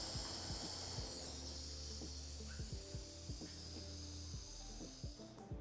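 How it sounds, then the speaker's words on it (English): Pressurized nitrogen escaping from a dirt bike rear shock as its bolt is cracked loose with a 4mm Allen key, a faint, continuous high hiss slowly tapering off, with soft clicks and handling noises close by. "We're just going to crack the bolt loose first and let the nitrogen come out."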